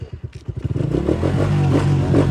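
A faulty motorcycle engine starting with a few sputtering turns, then settling into a steady, rough idle close by.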